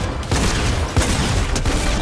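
Gunfire from a gun in the video game Fortnite, a loud, dense burst of rapid shots with a few sharper cracks over constant game noise.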